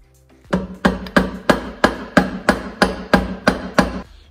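Hammer blows land on the engine cover of a Yamaha XT500 during engine teardown, about a dozen sharp, loud metallic strikes in an even, steady rhythm.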